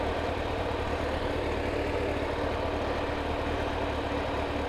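A hot Kawasaki ZX-9R sport bike idles steadily with its cooling fan whirring, a continuous, fairly loud low rumble with a broad airy wash over it and no talking.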